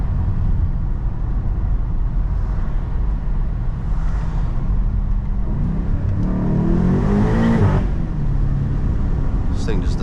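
A BMW M8 Competition launches hard, a loud engine roar rising through the gears with a rough low rumble, and a voice talks over it.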